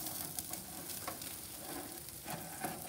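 Steak searing on a Caveman tabletop 1500-degree infrared cooker: a steady, close, crackling sizzle with occasional louder pops and spits throughout.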